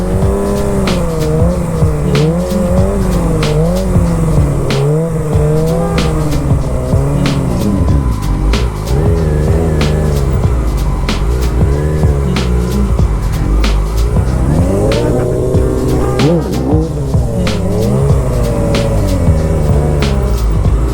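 A motorcycle does handbrake sit-down circles on a lot, its tire squealing loudly and continuously over a wavering engine note.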